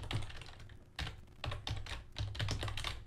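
A computer keyboard clatters as code is typed, with irregular quick bursts of close keystrokes and short gaps between them, with no voices.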